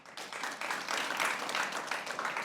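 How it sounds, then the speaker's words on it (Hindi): Brief, thin clapping from a small part of a crowd cheering for Hyderabad Kingsmen during a cricket show, rising quickly and lasting only a couple of seconds. "हैदराबाद के साथ जितने लोग हैं तालियां बजाएं"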